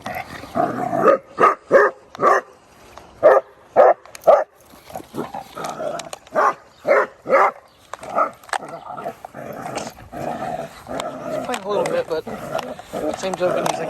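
Dogs bark in loud, sharp bursts, close by and in irregular clusters. Growls and whimpers mix in, and voices speak over the later part.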